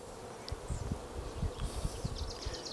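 Bees buzzing around a full beehive outdoors on a warm, breezy August day, a steady low hum with repeated close passes of individual insects over faint high rustle.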